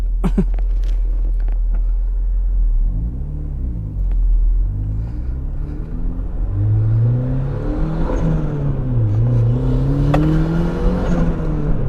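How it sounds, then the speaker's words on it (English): A 300whp turbocharged Mazda Miata pulls hard at half throttle, with a deep rumble rising through the revs, a pause and a climb, then steady acceleration, loud and close inside the car with no talk. "This is like half throttle. Half throttle. It's just crazy fast."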